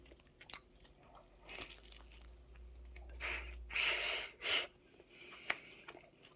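Crunchy chewing of crisp food, a few loud bites and crackling mouthfuls close up, with quieter gaps between.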